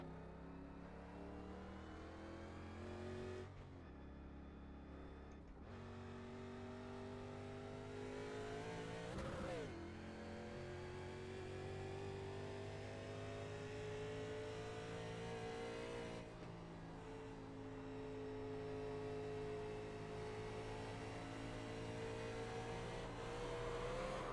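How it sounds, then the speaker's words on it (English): A car engine drones steadily throughout, with rising and falling revs as it approaches, a brief loud burst of acceleration near the middle, and no talking. "There's a car approaching."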